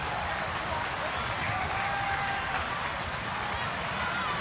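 Dense, steady applause from a large baseball stadium crowd at a Red Sox at Tigers afternoon game, a continuous wash of clapping and cheering that fills the whole stretch.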